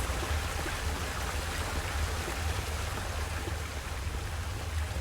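Steady flowing water rushes continuously in a video game world of Asterigos: Curse of the Stars, a dense, even wash with no breaks, moderately loud and close, alone without speech.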